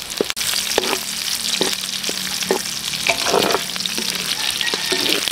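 Garlic and onion sautéing in a pan, with a loud steady sizzle and crackle and a few sharp spatula knocks against the metal spaced through it, close up with no talk.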